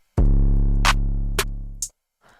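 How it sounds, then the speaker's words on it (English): Three separate 808-style drum hits in FL Studio over a sustained low bass tone: a clap, a snare crack, then a crisp closed hi-hat, each short and evenly spaced. "There's a 808 clap, a snare, and a close hat right now."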